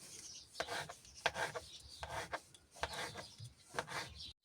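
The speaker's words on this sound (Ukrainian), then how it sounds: "потім беремо яйця і яйця ріжемо соломкою" A knife slicing boiled eggs into strips on a board, with about eight rhythmic rasping cuts, close but quiet, and no talking.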